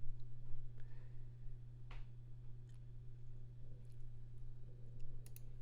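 Computer mouse left-clicks while selecting objects in Blender, a few faint, sharp isolated clicks spread irregularly over a steady low electrical hum.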